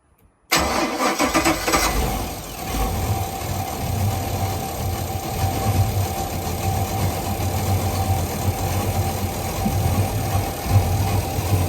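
A freshly installed Volvo Penta 5.7 inboard in a 2003 SeaSport 2400XL cranks and catches after a moment of silence, then settles into a steady, rumbling idle heard up close with no talk over it.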